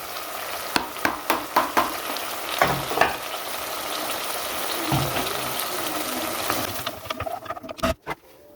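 Tomato sauce poured onto onions sizzling in a hot pan while cooking mumbar, a steady frying hiss broken by sharp clinks and stirring knocks of a utensil against the pan, close and moderately loud.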